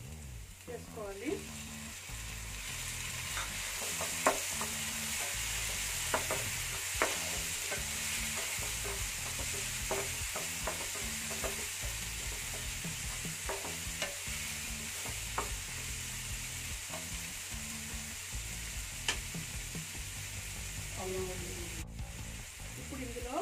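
Chopped tomatoes cook with curry leaves in a pan for a mango fish pulusu, a steady sizzle under repeated scraping and stirring strokes, close and continuous throughout, with no talking.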